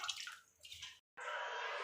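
Washed wheat grains sit in a sieve, giving a faint trickle of draining water. A brief silence follows, then a steadier, brighter rush of water.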